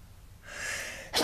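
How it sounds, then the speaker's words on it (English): A single sneeze: a breathy inhale builds, then a sharp, explosive burst at the end, close to the listener. "had to sneeze"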